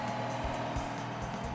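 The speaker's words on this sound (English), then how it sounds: "It revved up the engine, though." Engine revving of a car crushing machine in the BeamNG Drive video game, a steady droning motor tone with low rhythmic pulses, moderately loud and continuous with no talking.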